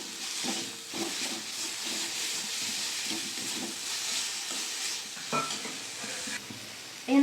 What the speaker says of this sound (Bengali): দিয়ে দেবো আদা রসুন বাটা, দিয়ে দেবো জিরের গুঁড়ো, দিয়ে দেবো ধনের গুঁড়ো। ভালো করে কষিয়ে নেব।